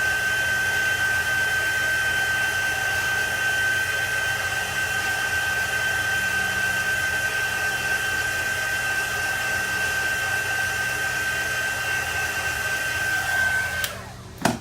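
A blow dryer runs steadily, drying chalk on a custom sign, with a constant whirring hum and airflow hiss held throughout and clicking off at the end.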